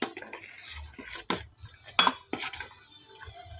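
A utensil stirs beef pinapaitan in a cooking pot, a few distinct metallic scrapes and clinks against the pot with soft liquid sloshing between them, close and brief.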